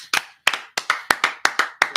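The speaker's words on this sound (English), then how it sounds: "Clap it up for class." A group in a history class clapping in a brisk, sharp series of about nine loud, evenly spaced claps, close and clear with no voices.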